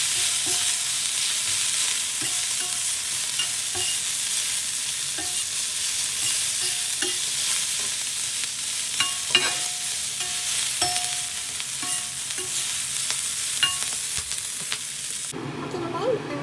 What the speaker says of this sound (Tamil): இது நல்லா கிண்டி வச்சுக்கலாம்.